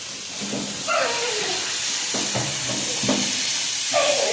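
Mixed vegetables fry in oil in a pan for street-style chowmein, a steady sizzling hiss with scraping stirring strokes, close and continuous throughout.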